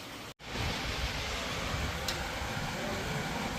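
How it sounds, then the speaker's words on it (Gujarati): Steady, even hiss of rain falling continuously nearby during a rainy spell, broadband and unbroken after a brief cut at the start, with no voices. "વરસાદ ચાલુ જ છે"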